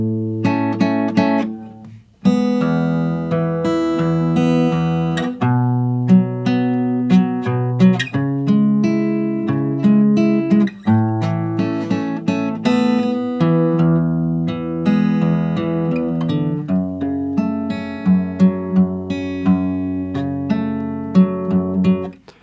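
Solo guitar plays the intro of a song with steady picked and strummed chords, close and clear, alone without talk.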